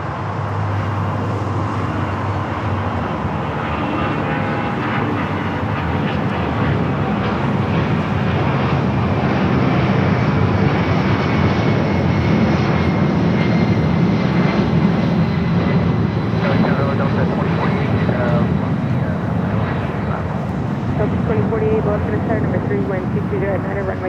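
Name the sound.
American Airlines Boeing 787-9 Dreamliner arriving from Tokyo Haneda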